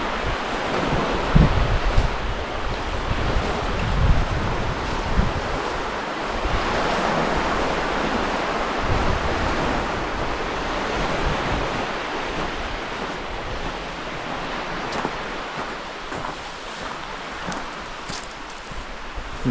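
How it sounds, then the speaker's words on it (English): Strong wind and lapping waves on Comox Lake, a continuous rushing hiss with gusty surges and some microphone buffeting, fairly close and steady throughout. "Really windy."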